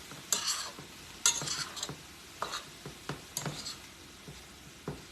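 A big skillet full of vegetables sizzles softly while a utensil stirs and scrapes against the pan in repeated close clanks, about a dozen irregular strokes.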